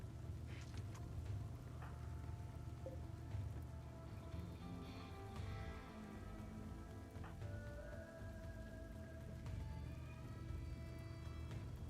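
Soft, continuous rain hiss in a video game, faint and steady with scattered tonal game sounds over it.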